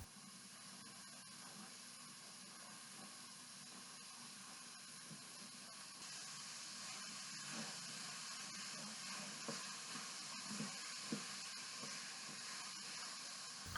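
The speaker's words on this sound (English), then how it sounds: "I'm just going to crumble it up in here and brown it" Crumbled hamburger meat browning in a skillet gives a soft, steady frying hiss, fairly faint and continuous, growing slightly busier in the second half with scattered small pops.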